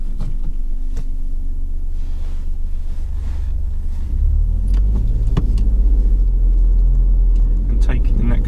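A learner driver pulls away on a mock driving test, the car's engine rumbling low and steady and swelling as it moves off, with wind and road noise underneath and an instructor talking over it.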